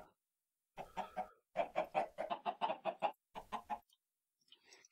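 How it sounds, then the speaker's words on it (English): Chickens cluck in a video game, a series of rapid, close, clearly separated clucking bursts in several groups against near-silent background, with a faint trailing cluck at the end. "Oh, them chickens."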